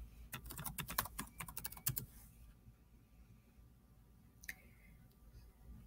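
Fingers type a new password on a Chromebook keyboard in a quick, uneven burst of close key clicks lasting about two seconds, then a quiet pause broken by one last single keystroke.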